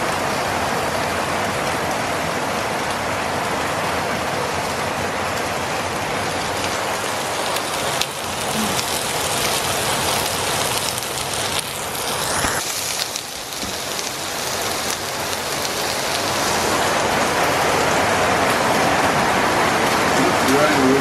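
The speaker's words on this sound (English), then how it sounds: "Look at that raining out there." Steady rain pours down outside a remote bush hut in New Zealand, a dense continuous hiss of drops on surfaces with a brief lull midway, while a voice speaks faintly underneath.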